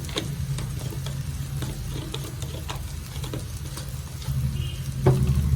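Soya chunks stirred in a pan with coriander, pepper and garam masala powders, a steady low sizzle under scattered scraping and clinking of the spoon, growing a bit louder near the end.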